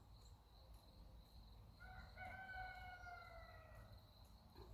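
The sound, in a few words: rooster crowing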